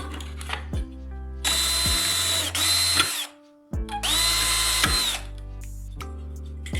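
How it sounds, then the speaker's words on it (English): A power drill bores two holes in a piece of metal channel: two long, loud high-pitched whining bursts, each spinning up and winding down, separated by a short pause, with clicks and handling noise between them and no voices. "Take a piece of metal channel and drill 2 holes in it."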